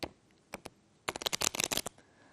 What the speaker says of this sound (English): riffle the other ends of the cards together with the thumbs